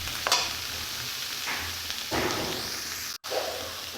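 A spatula stirs a filling of potato and paneer with ground spices as it fries in a pan, a steady sizzle broken by a few scraping strokes.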